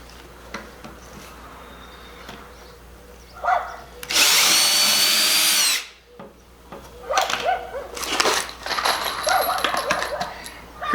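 A power drill bores about an inch and a half into wood for a DIY raised planter bed, a loud, steady whirring burst lasting a couple of seconds, followed by clattering handling noises.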